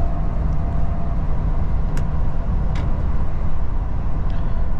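A Mercedes New Actros truck cruising on a road at about 80, a steady low engine and rolling-tyre drone heard from the cab with a few faint clicks, no talking.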